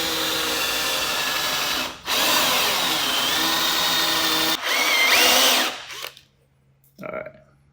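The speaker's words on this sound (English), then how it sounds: "we're gonna have to drill out these rivets here and tap them through" A power drill bores out the clutch rivets on a 2014+ Honda CRF125F with a 3/16 drill bit, giving a loud continuous whine that breaks off briefly twice, then stops, followed by a short final burst.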